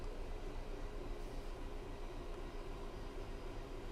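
A freight train runs on the Trent Valley route in a train simulator video game on Xbox, giving a continuous close, heavy rumble with a faint rhythmic pulse and no voices.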